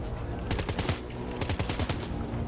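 Rapid bursts of gunfire from a headshot on an armored enemy in Death Stranding 2, a loud cluster of shots with repeated sharp cracks in quick succession, and no talk.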